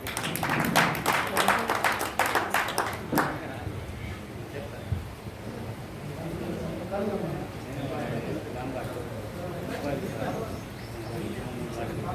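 An audience at an outdoor medicinal-plant conference claps in dense, loud applause for a few seconds, then it fades into crowd murmur and background chatter, with birds cooing nearby.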